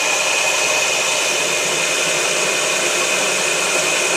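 A metal lathe running steadily while machining an unthreaded bolt stem, producing a loud, continuous whirring hum with a high tonal whine and no breaks.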